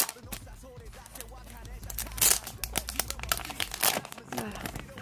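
Close, crisp crinkling and rustling as BTS Season Greetings 2017 sticker sheets in plastic are handled, with irregular sharp crackles throughout while a person talks in between.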